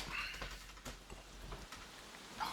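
Rain falling in Escape from Tarkov, a faint, quiet patter of drops with a few soft taps scattered across a short stretch.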